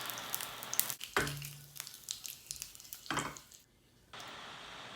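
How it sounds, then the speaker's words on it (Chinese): Japanese chashu pork sears in a pan, giving soft intermittent sizzling bursts as the rolled meat is turned to brown its sides, with quieter gaps between. "用滚动式法把侧面都煎成金黄色"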